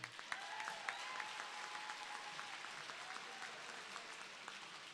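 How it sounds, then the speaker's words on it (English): A commencement ceremony audience claps after the national anthem, giving a steady, even round of applause that sounds soft and somewhat distant throughout. "Would you please offer one more round of applause to Professor Studdard for our national anthem?"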